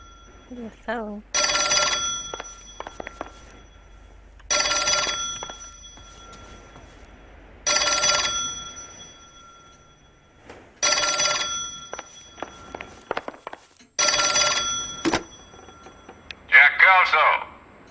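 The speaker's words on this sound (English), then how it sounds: "The phone." An old-fashioned telephone bell rings in the L.A. Noire video game, loud and close, in five evenly spaced double-ring bursts separated by silence, ending as the receiver is picked up.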